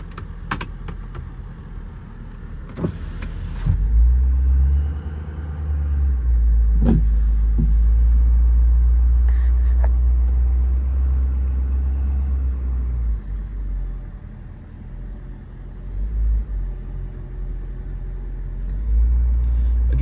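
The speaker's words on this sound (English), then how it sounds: "I'm gonna hop in the truck and take it for a quick spin" A 2019 Ford F550 4x4 service truck with crane and mechanic body runs and drives, its engine giving a steady low rumble that swells as it pulls away, with a few brief clicks and knocks inside the cab.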